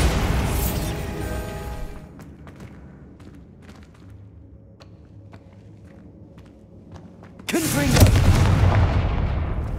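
Bombarda spell explosion in the Hogwarts Legacy video game, a single loud blast near the end after a quieter stretch of scattered faint clicks and thuds, preceded by a fading rumble.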